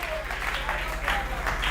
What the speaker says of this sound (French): Applaudissez très fort pour le Seigneur.